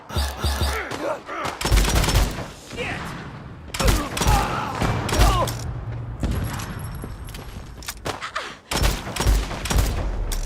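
Bursts of gunfire in the video game Phantom Fury crack and thud in rapid volleys, with impacts and clatter between shots and sections of quieter action.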